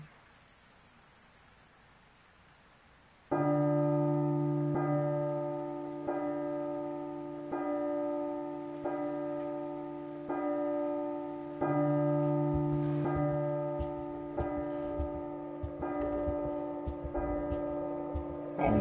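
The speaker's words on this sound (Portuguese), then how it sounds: "Bom, 12 badaladas" A church bell in the Groundhog Day video game strikes twelve times, each resonant toll ringing out at a slow, even pace after a quiet, hissing start.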